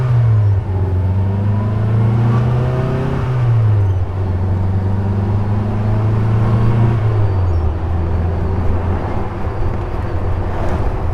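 A 1966 Austin Mini Moke drives with the top down on a freeway, its small engine droning loudly and steadily, the pitch rising and falling through gear changes, with wind noise and no voices.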